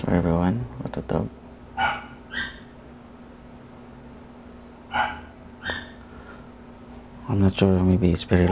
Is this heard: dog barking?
yes